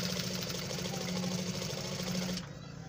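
A sewing machine stitches a cut-band collar with a fast, steady mechanical whir and rapid needle clatter, loud and close. It runs continuously, then eases off near the end.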